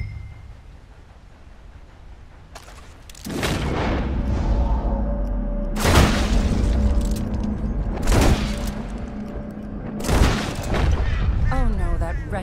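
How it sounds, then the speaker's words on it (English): Gunshots at target practice in Red Dead Redemption 2, four loud booming reports spaced about two seconds apart, each ringing out over a steady outdoor game ambience. "I'll shoot a few more this time."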